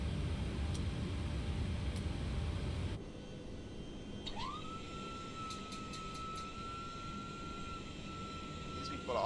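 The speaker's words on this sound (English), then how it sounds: "let's go ahead and start our APU" An APU spools up on a PMDG 737-800 in a flight simulator, a rising whine settling into a steady tone over a constant broadband roar, with sharp clicks.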